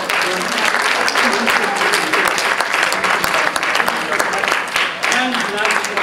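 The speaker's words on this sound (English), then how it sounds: "Let's give them a good round of applause for coming up." An audience at a magic and mentalism show claps in a loud, dense, steady round of applause that lasts the whole stretch.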